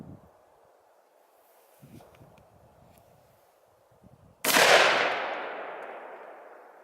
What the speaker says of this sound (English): I'm going to go up and put this round into it.